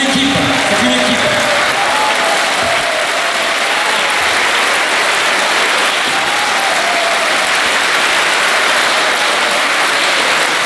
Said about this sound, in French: Je voudrais qu'on se lève tous et qu'on applaudisse tous les bénévoles du comité des fêtes de Vias